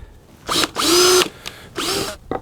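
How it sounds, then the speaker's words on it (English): A power drill boring through wood runs in several short bursts, its motor whining up and down between pauses, close and fairly loud, with no talking. "drill it the rest of the way."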